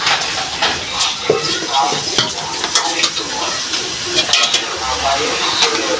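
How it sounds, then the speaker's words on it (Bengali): Taro leaves with garlic, onion and chili are stirred in a hot pan, close rhythmic spatula scrapes over a loud crackling sizzle. "এরপর এগুলো সুন্দরভাবে নেড়ে একটু ঢেকে দেব"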